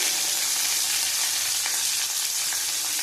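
Bitter gourd fries in hot oil with salt, a loud, continuous close-up sizzle with a light crackling texture and faint stirring throughout.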